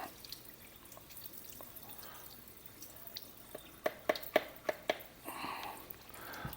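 Excess liquid from cooked red lentils drains through a strainer: a faint trickle, then a quick cluster of distinct drips and splats, ending in a softer wash of flowing liquid.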